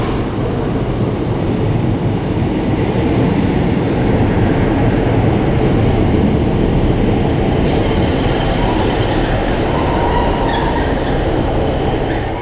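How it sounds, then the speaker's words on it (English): A Class 150 diesel train arrives at Exeter St David's station, with a loud steady rumble of wheels and engine filling the platform and high metallic wheel squeal rising near the end, close by with no voices. "now we can take a look at the arrival of my train here at Exeter St."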